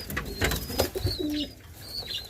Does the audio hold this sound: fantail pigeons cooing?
yes